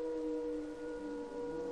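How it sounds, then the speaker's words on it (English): A steady tornado siren wail from a Minecraft weather mod holds a sustained tone throughout, fairly quiet and distant-sounding, with no speech. "Actually got close enough to trigger our sirens"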